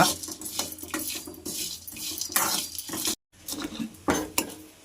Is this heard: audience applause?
no